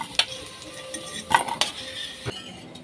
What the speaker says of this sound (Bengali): আলুটা ভাজা হয়ে গেছে, তো এবারে আমি আলুগুলো উঠিয়ে নিচ্ছি